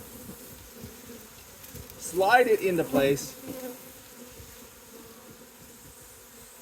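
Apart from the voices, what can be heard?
honey bees buzzing while being moved into a beehive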